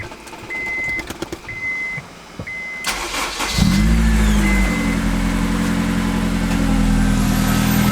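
A car engine cranks and fires up with a loud burst, then settles into a steady idle, preceded by a few door and key clicks and a repeating chime.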